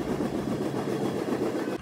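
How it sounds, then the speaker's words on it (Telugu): An underground metro train running, a continuous rumbling roar with rhythmic clatter heard from inside the nearly empty carriage, steady throughout before cutting off. "ఇప్పుడే మెట్రో ఎక్కాను కానీ మెట్రోలో ఎవ్వరు లేరు"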